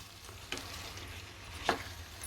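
Soft sizzle from a pan as basmati rice is mixed with marinated prawns, with two brief spoon scrapes against the pan, quiet and without talk.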